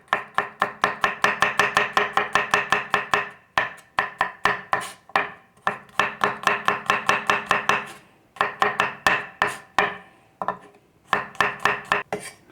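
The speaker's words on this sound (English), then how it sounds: "We need to finely slice this garlic because we're going to fry this." A kitchen knife finely slices fresh garlic on a cutting board, rapid, even taps close and loud in several quick bursts with short pauses between them, no talking.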